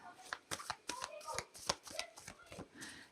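Animal spirit oracle cards are shuffled and pulled by hand, quick riffling flutters and soft taps in short bursts, close up and quiet.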